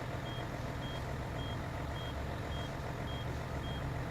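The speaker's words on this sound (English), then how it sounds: "The backup alarm on this thing is cooler too. Got like a very Mercedes-like" A Mercedes truck's reversing alarm in the Snowrunner game, a steady series of evenly spaced high beeps over a constant engine rumble, with no talking.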